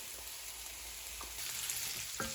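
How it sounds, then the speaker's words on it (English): Sausage sizzling and frying in a hot pan, a constant crackly hiss with a few faint knocks, fairly quiet and close. "I think I'll go ahead and add in my sausage now too."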